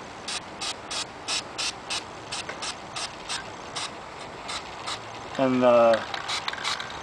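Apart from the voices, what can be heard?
spray painting with Krylon Glossy Classic Gray spray paint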